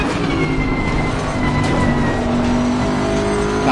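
A race car engine in Assetto Corsa Competizione, at Brands Hatch GP, drones loud and steady at high revs with a sustained mechanical whine and no talking.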